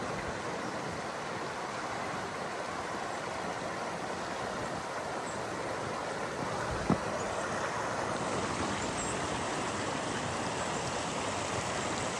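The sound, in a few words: creek rapids flowing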